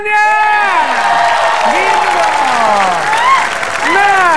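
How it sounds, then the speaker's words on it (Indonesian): Studio audience applause and cheering on an Indonesian TV show, loud and continuous, with music and a voice layered over the clapping. "Tepuk tangannya."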